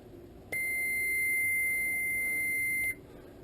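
A multimeter gives one continuous, clear, high beep of about two and a half seconds during a continuity test on a three-way headlight switch, over a quiet background.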